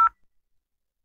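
An IP phone in a Packet Tracer network simulation sounds a single short, loud dialing tone that cuts off quickly, followed by faint fading echoes and silence.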